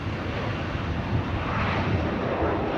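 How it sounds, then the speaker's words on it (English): A large Japan Airlines jet airliner landing at LAX passes with a loud, continuous engine roar that fills the whole stretch and swells slightly as it comes near. "Looks like a big plane too. And it's gonna come right through."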